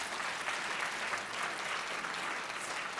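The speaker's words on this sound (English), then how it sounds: "Please give them another round of applause." A banquet audience applauds young scholars at an academic excellence event, producing steady, even clapping that stays moderately quiet and continuous from start to end with no talking.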